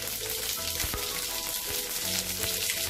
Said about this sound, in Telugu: ఆయిల్ వేడెక్కిన తర్వాత ఇందులోకి పోపు గింజలు